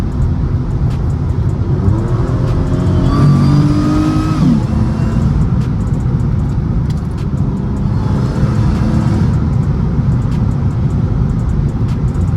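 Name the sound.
supercharged Mercedes C32 AMG accelerating at full throttle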